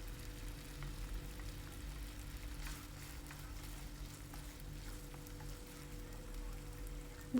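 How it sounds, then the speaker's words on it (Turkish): Onions sizzle in a pan with orzo and vegetables for a chicken pilaf, a quiet, steady frying crackle with faint stirring and no voices. "Soğanı ile birlikte tekrar kavuruyorum."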